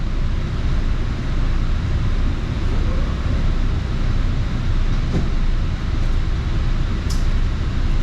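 An AirTrain JFK airport train rumbles steadily along its track, a constant loud roar of wheels and motor with no breaks or voices.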